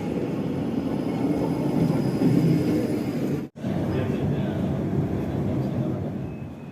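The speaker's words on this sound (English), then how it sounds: "we're taking the tram now and moving further along the line to Ghent South" Tram on Line 4 in Ghent travelling toward Ghent South, heard from on board: a steady low rumble of wheels and motor with a brief drop-out near the middle.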